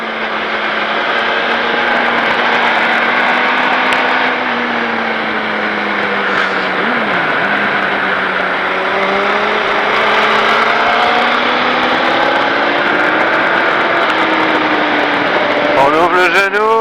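Motorcycle engine revving and accelerating on the Bresse race circuit, a sustained loud drone with rising and falling pitch through gears and a sharp climb near the end.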